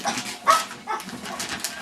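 A dog barks and yips a few times in quick succession, close by, with some faint background noise.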